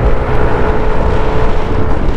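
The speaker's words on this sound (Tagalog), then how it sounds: "Bilis mabilis niya makuha yung 60." A Kymco Dink-R 150 scooter engine drones loudly and steadily as it picks up speed on the road, with heavy wind rush buffeting the microphone throughout and no talking.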